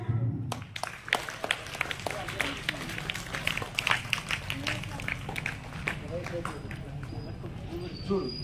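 Applause rings out at a school Independence Day celebration, a crowd's steady clapping mixed with voices and the bustle of children moving around nearby, continuing through the whole stretch.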